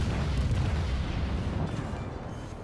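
A naval gun salvo of armor-piercing shells fires from the cruiser Roon in World of Warships, a deep heavy rumbling boom that rolls on and slowly fades, with no voices over it.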